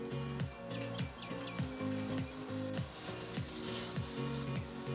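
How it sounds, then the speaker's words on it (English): Carrots frying in hot oil in a wok, a steady sizzle running throughout with repeated tapping scrapes of a spatula against the pan and a faint background hum. "So I'm going to fry the carrots first."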